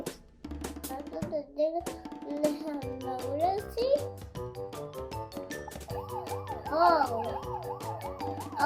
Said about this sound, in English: How can you turn on the